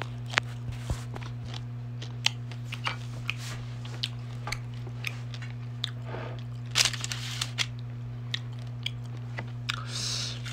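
Grilled quail being eaten up close: sharp crunchy bites and moist chewing come in irregular bursts over a steady low electrical hum, with no talk.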